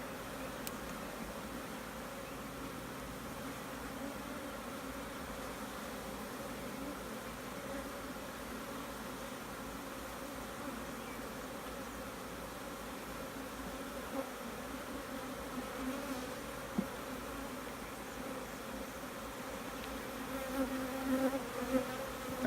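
A relocated honeybee swarm buzzes in its hive with a steady, even drone of many bees that continues for the whole stretch, close and moderately loud, with some light rustling and no talk.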